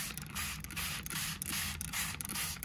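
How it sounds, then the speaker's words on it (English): A hand-pumped spray bottle mists water onto a small watershed model in rapid repeated hissing bursts, soft and close, with brief gaps between squeezes. "now I'm going to spray our model"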